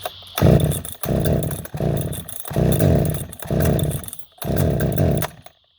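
A flooded chainsaw engine sputters and catches in repeated bursts, five loud rough revving spurts separated by brief drops as it struggles to start and keep running, close to the listener.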